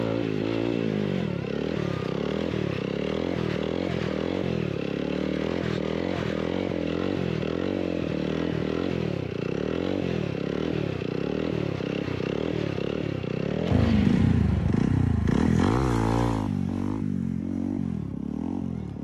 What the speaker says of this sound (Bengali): হুইলি প্র্যাকটিস শুরু করে দিলাম।